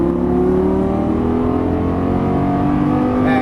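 A Lamborghini Gallardo LP550-2 accelerates on a racetrack, its loud engine note rising steadily and unbroken under sustained throttle, close and continuous with no talking.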